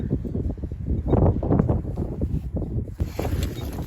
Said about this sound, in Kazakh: бізде қатты жел болып тұр